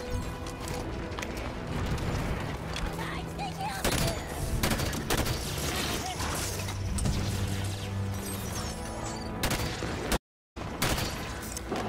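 Video game gunfire rattles in dense bursts, rapid automatic shots mixed with heavier blasts and clanks, loud and nearly continuous with a brief dropout near the end.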